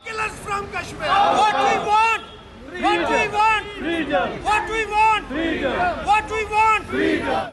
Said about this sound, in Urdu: شرکاء کی جانب سے بھارت مخالف نعرے بلند کیے گئے۔